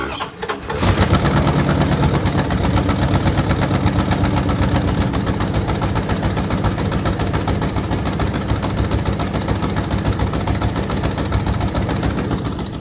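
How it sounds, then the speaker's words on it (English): A Dodge Ramcharger engine cranks and catches after a crank sensor repair, having sat for three years, then runs steadily and loudly at a rough idle, with a faint voice briefly underneath. "I finally got the vehicle to start"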